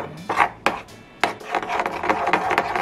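Sesame oil, vinegar, sugar and minced garlic are stirred together in a small bowl, giving close, uneven scraping and clinking strokes, sharp at first, then a quicker rubbing rhythm.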